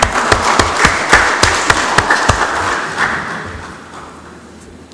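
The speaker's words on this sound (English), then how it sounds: "Let's give him a big round of applause for coaching the MC." Delegates at a general assembly give a short round of applause: distinct, sharp claps ring out in a loose rhythm, then thin out and fade into room noise.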